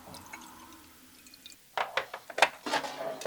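Water is poured and dripped for watercolor painting on watercolor paper, starting with faint tinkling and then turning into a cluster of close splashy drips and trickles.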